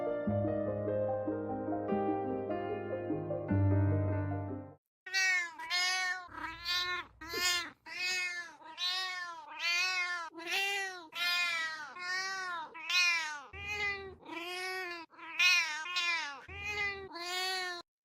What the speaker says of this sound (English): And those are her cries. She was a very vocal kitty.